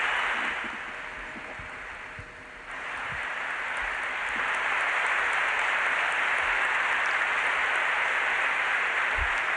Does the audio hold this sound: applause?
yes